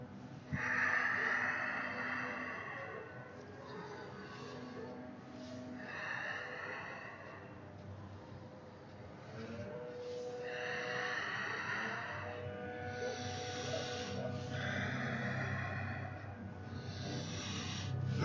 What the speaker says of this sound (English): Five more times. Big breaths.